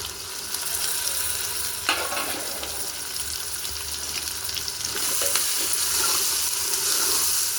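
Tomatoes hit hot oil for a mutton paya curry, a steady loud sizzle and fry with brief stirring clatters and a swell of hissing midway, no voices.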